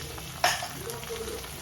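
Ginger-garlic paste drops into hot oil with onion and tomato in a home kitchen pan, giving a sudden sizzle burst that settles into a quiet, steady frying hiss, heard close and alone.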